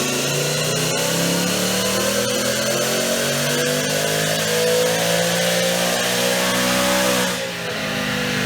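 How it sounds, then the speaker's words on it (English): A supercharged 2019 Ford Mustang GT with a Whipple blower and 10R80 automatic roaring on a dyno, engine pulling in one long loud climbing sweep before easing off near the end. "We're gonna put the car in the dyno now."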